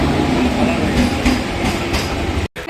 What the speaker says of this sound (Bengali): ওদিকের তো ট্রেন এসে গেছে